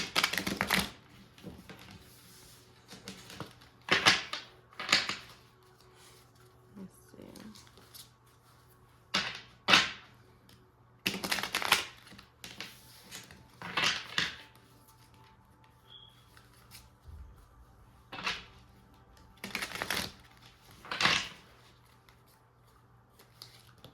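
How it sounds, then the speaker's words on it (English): Tarot cards are shuffled in short bursts of riffling and slapping, repeated roughly every few seconds at close range over a quiet background with faint hum. "So just give me a second, I'm gonna shuffle."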